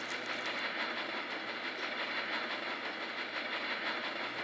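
A steam engine from a Thomas & Friends railway story rolls along steadily, a continuous train rumble with faint rhythmic clatter, no voices over it.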